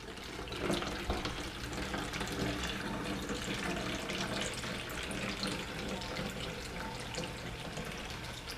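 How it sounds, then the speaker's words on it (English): Distilled water poured into a container to mix a polymer detailing solution, a steady continuous splashing wash that holds fairly loud throughout with no talk. "Then we're gonna take our distilled water and add the water to make our super polymer concoction."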